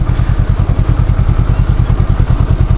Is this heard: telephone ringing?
no